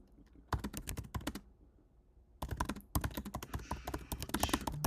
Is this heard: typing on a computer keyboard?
yes